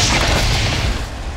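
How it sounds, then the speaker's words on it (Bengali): A bomb blast on a railway line in a Bengali action film, a heavy low boom that rumbles and fades over a second and a half, loud and alone. "রেল লাইনে বোমা ফেটেছে"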